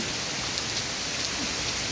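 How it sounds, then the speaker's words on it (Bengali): Heavy rain falls in front of a house, an even, steady wash of noise close at hand, with no one talking. "এই যে দেখতে পাচ্ছেন বাসার সামনে আমি না ভিজতেছে, অনেক বৃষ্টি।"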